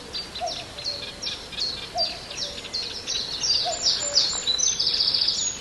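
Cuckoo calling near marshes along the River Ant and Barton Broad in the Norfolk Broads: a faint, distant call repeats three times, set among brighter chirping from other birds.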